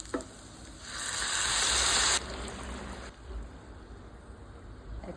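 Hot water poured onto fried rice in a pot while making ilish pulao, giving a loud burst of hissing sizzle that swells for about a second, cuts off abruptly, then settles into a quieter steady bubbling hiss.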